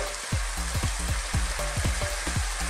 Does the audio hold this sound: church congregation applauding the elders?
no